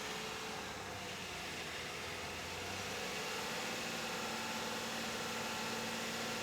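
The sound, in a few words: car engine recorded with shotgun microphone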